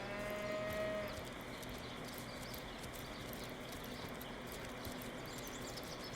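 Cattle mooing in the video game Divinity: Original Sin, a low drawn-out call near the start over a steady ambient game soundscape that continues afterward.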